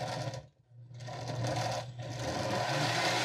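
A blender whirs loudly, blending a fruit water drink with plenty of ice, a steady motor drone that dips briefly twice as if pulsed, then runs on continuously.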